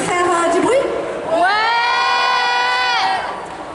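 An audience at a cosplay contest and catwalk bursts into loud cheering and shouting, with high whoops and sustained yells that swell, hold for about two seconds and then fade.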